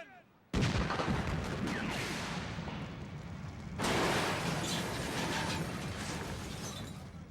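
A film explosion effect of a cable car: a sudden loud blast erupts after a brief quiet, then a long roaring rumble with debris crackle and a second surge of noise midway.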